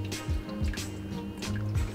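Water trickles and drips into a pet's tank in a few short pours, close and fairly quiet, with splashy gurgles repeating over two seconds.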